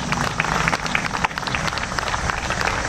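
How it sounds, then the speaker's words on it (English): Applause from an audience at a community remembrance evening, a steady dense patter of many hands clapping together for the full three seconds with no speech over it. "I think we need to give all of ourselves a round of applause for that."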